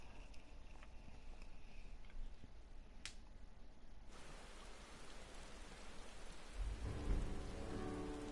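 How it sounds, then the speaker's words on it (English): Dramatic rain in the Final Fantasy XIV video game, a steady wash of falling rain that swells and grows heavier partway through, with a low rumble joining near the end. "Ooh, dramatic rain."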